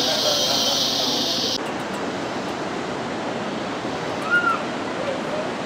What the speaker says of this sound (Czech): 80 metrů vysoký vodopád Arenal.